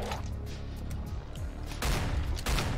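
Gunfire aimed at a creature in a video game, bursts of shots over a busy game soundscape that grow louder and denser toward the end.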